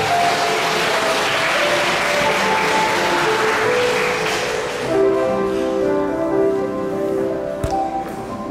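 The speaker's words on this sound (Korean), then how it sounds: "뜨거운 박수 부탁드리도록 하겠습니다." Wedding guests applauding at a ceremony, a dense burst of clapping that fills the first half and then thins out as music-like tones come in, fairly loud and close.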